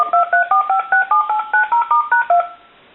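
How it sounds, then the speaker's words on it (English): A GE 25881EC telephone on speakerphone redials, sending a rapid, evenly spaced run of about eleven DTMF tone beeps, loud and clear, ending in a brief fade to near silence. "We're going to hit speakerphone and redial."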